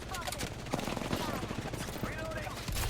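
Rapid video-game gunfire, steady automatic bursts of shots heard fairly close, layered with game sounds and a player's voice talking over it.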